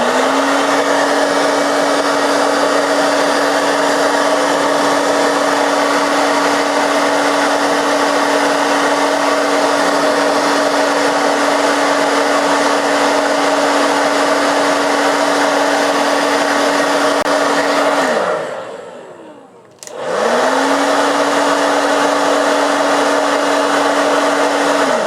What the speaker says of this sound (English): Now applying bit of heat over here by using hair dryer or any heat blower to remove the